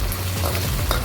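Chicken pieces for a Malaysian-style chicken peratal frying in a pan, giving a steady, close crackling sizzle with faint stirring scrapes throughout the short stretch, no voices.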